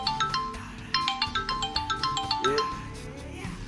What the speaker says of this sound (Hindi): आ गया चौधरी सिकंदर का फोन